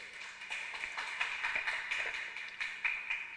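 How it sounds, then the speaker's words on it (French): An audience claps for a player at a school quiz competition semifinal. Many hands patter together in a fairly steady wash at moderate loudness, with no clear single beat. "On applaudit pour ce joueur."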